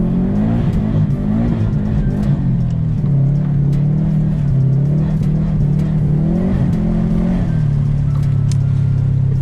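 Subaru STi engine revving hard while drifting on a snowy road, pitch rising and falling with the throttle in a loud, continuous drone, with faint tire noise and no talk.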